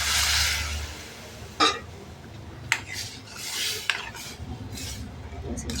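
Cooked dal and bottle gourd going into a hot tempering in a pot, a burst of sizzle followed by a few sharp clinks and scrapes of a spoon stirring against the metal, close and clear.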